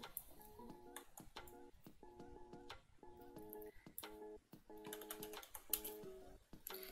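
Quiet, quick clicking of keys on a computer keyboard in short bursts, with faint tonal sounds in the background and no speech.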